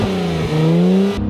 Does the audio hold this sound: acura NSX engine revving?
yes